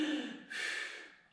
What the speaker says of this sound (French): ça, c'est une respiration un peu quand on est essoufflé